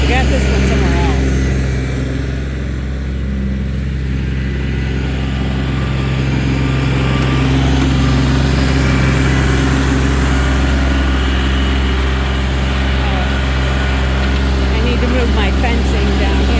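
A small garden tiller engine drones steadily and close by, a low continuous rumble, while a person talks over it.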